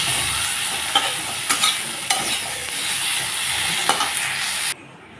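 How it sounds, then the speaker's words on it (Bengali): Eggplant and potato pieces frying with turmeric and salt in a pan, a steady hiss of oil with a few sharp stirring scrapes throughout, loud and close, cutting off abruptly near the end. "বেগুন আলুটাকে ভালো করে ভেজে নেব।"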